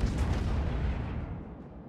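Naval cannon fire from a battleship in World of Warships, a single deep, heavy boom that rolls out and decays over about two seconds, loud and alone.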